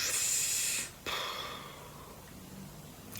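A person imitates a monster's thunderous snoring with a loud, breathy snorting inhale followed by a long hissing exhale, close and alone with no talk.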